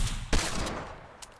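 Hand cannon fire in Fortnite Chapter 1 Season 5: a single sharp shot near the start, a few broadband bursts, then a fainter pop just before the end, all fairly close.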